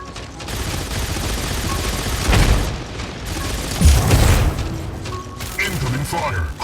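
Incoming weapon fire in Mech Arena pounds in dense bursts of booms and rapid gunfire, loud and continuous with several heavier impacts, while a game voice speaks over the battle.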